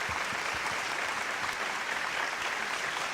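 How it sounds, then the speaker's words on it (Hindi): Audience applause at a televised interview show, a steady dense wash of clapping that fills the whole stretch at moderate level with no talk over it. "जोरदार तालियां"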